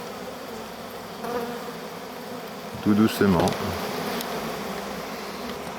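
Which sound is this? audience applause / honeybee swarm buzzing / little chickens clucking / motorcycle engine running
honeybee swarm buzzing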